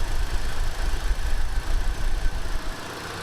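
A 1968 Buick Electra 225 engine fitted with electronic fuel injection idles steadily at close range, a low continuous rumble with a slight uneven lope, easing off slightly near the end.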